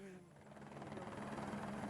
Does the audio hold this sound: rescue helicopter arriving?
yes